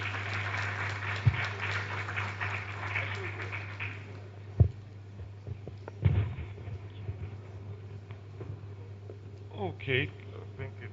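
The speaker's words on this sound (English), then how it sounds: "A round of applause for him," Audience clapping at a book presentation keynote, a short burst of applause over the first four seconds that thins out, leaving a steady room hum with a few scattered knocks and a brief voice near the end.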